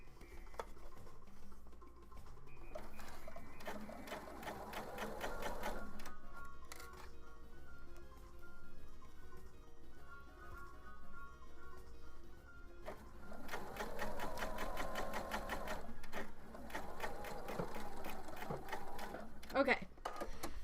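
A sewing machine stitches fabric for a Nintendo-themed craft in bursts of rapid mechanical clatter, close and clear, stopping and restarting, with a person talking in between runs.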